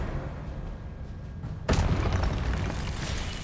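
An Expelliarmus spell goes off in Hogwarts Legacy: a quiet stretch, then a sudden booming burst that trails into a crackling, fading wash of energy.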